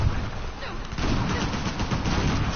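Shotgun blasts in Uncharted: The Lost Legacy, dense low booming gunfire running continuously through the moment with no clear gaps, loud and close, over game combat noise.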